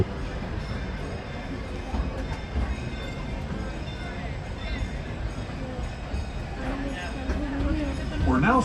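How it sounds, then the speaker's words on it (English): Rumbling ride aboard the Disneyland Railroad steam train, a steady low roll of the cars on the rails continuing throughout, with a voice talking over it and some background park noise. "We're just putting along here on the Disneyland train"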